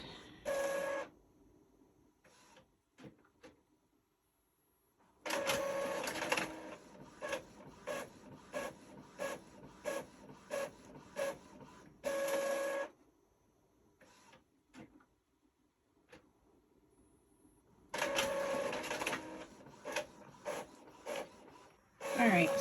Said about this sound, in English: print, send to printer